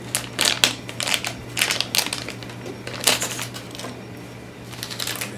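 Close, crisp crinkling and snapping of plastic wrap being pulled off a 1/6 scale Rambo action figure, in quick irregular bursts with brief pauses between.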